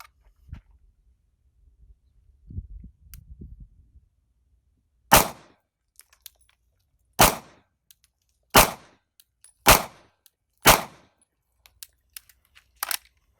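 Five handgun shots fired one after another at a target dot, sharp loud cracks spaced about two seconds apart after a few faint handling noises.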